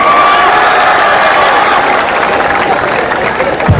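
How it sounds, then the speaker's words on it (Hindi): An audience at a Hindi comedy poetry gathering gives loud, close, sustained applause that fills the whole stretch without a break. "अरे नमन कर दिया, ताली तो बजा दो।"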